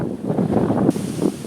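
Gusting wind buffets the microphone at a Buddhist temple on a pilgrimage route, a loud low rumble that surges and drops over a second and a half.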